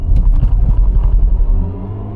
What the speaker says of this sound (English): So you got this weird noise when you accelerate and decelerate, which has been created by Hans Zimmer.